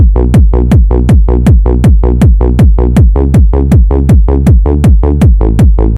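A hard bounce kick synthesized in Serum, heard with only its first two layers, hits in a steady fast loop of about twenty punchy, bass-heavy thumps, loud and alone.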